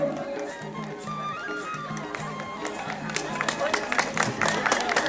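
Applause from an audience at a memorial stage event in Chhintang, Dhankuta, welcoming videographer JB Lama, swelling into dense clapping over steady background music.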